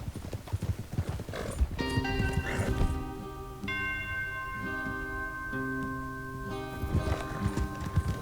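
Horses ridden in the video game Red Dead Redemption 2, with steady clip-clop hoofbeats and a neigh, heard alongside a sustained musical chord and bell-like tones.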